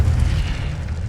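Fiery spell blast from a Harry Potter video game, a loud sustained roaring boom with heavy low rumble that fills the whole moment without letting up.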